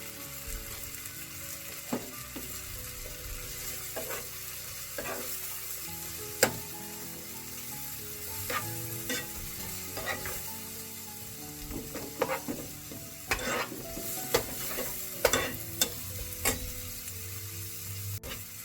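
Chopped onion sizzles steadily in a pan for paneer bhurji, a constant frying hiss broken by frequent scraping clinks of a spoon stirring against the metal, close and with no voices.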